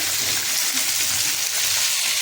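Chopped tomato hitting browned onions frying in a pan, giving a loud, close, unbroken sizzle with a busy crackling hiss and no voices.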